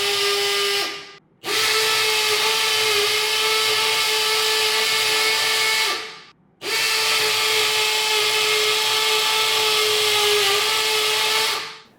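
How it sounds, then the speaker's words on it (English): Milwaukee cordless drill, a Gen 3 or Gen 4 model, boring into concrete: two loud, steady whining bursts of several seconds each, separated by a brief pause, close up with no talking. "Finally, we tested how well these tools drilled into concrete."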